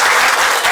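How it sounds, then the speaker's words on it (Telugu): An audience at a public speech breaks into loud, dense clapping, a brief close burst of applause filling the hall. "మీరు గట్టిగా చప్పట్లు కొట్టాలి"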